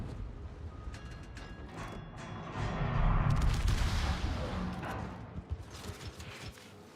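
Naval guns fire in World of Warships, a dense rumbling barrage of booms that swells into a heavy salvo midway and then trails off into scattered, sharper reports.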